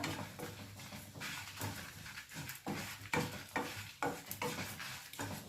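Dried red chillies being stirred in a hot pan, giving a steady sizzle with soft scraping strokes repeating in an uneven rhythm, close and moderately quiet, with no voice.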